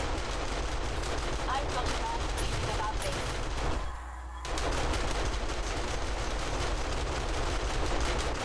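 Turret gunfire in the video game 7 Days to Die, a dense, loud, continuous automatic rattle with a brief pause near the middle before firing resumes, while people talk over it.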